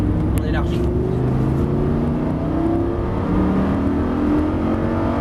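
Lamborghini Gallardo LP560-4 engine pulling hard at full throttle on a track, a loud, steady in-car drone with rising harmonics throughout, while an instructor's voice talks over it.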